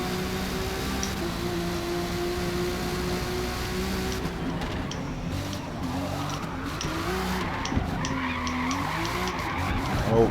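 Rear tyres of a GT race car screech and skid under wheel spin during an endurance race in Forza, with a steady engine drone beneath and harsher squealing building toward the end; no talking.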